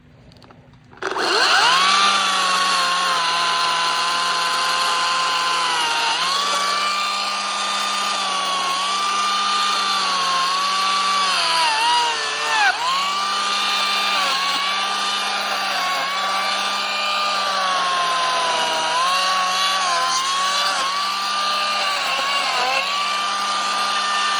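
A Makita DUC254 cordless battery chainsaw runs at a steady high whine while cutting small branches, starting abruptly and holding a continuous loud tone with slight pitch dips under load, close by and without talk.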